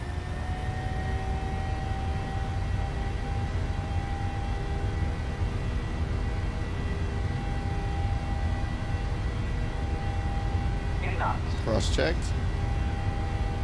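Twin jet engines of a Boeing 737 at takeoff thrust in a flight simulator, a steady loud roar with a whining tone from inside the cockpit, with a brief voice and a few short electronic tones near the end.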